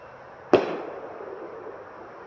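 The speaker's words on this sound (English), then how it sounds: "they're lighting fireworks over there" Fireworks set off down the street by neighbours around the Fourth of July: a single sharp distant bang followed by a long rumbling echo that slowly fades into quiet outdoor ambience.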